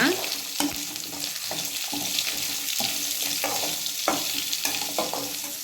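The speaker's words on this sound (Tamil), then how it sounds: "இதை இது மாதிரி நல்லா வதக்கிக்கோங்க" Tamarind sautéing in a pan for manathakkali greens chutney, a close sizzle with regular scraping strokes of a spatula across the pan, no talking.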